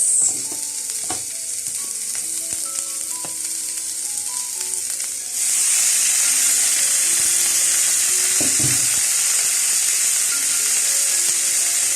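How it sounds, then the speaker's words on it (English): Steak sizzles loudly while searing in a hot pan, a crackling hiss that swells and grows steadier midway, with a few clinks of utensils. "sear our steak. So guys, the sizzle, it's that time."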